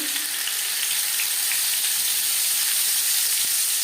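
Marinated bhola fish frying in five spoons of hot refined oil: a loud, even, continuous sizzle and crackle that holds steady throughout, with no talking.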